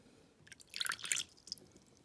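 A small amount of water trickles and splashes into a tarantula's shallow water dish in a short, quiet burst of drips lasting about a second.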